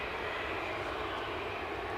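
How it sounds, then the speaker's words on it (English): A Jet2 airliner at Edinburgh airport, pushed back and turned, gives a steady, continuous engine roar and whine at moderate distance, unbroken and with no talk over it. "So we've got a Jet 2, not JetBlue or Jet New, but Jet 2, push back and turned."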